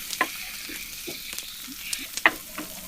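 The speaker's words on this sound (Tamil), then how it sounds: "இப்ப எல்லாத்தையும் நல்லா கிளறி எண்ணெயிலேயே வதக்கி எடுப்போம்." Tomatoes, onion and chili powder in oil give a faint, low sizzle, broken by scattered clicks and scrapes from stirring.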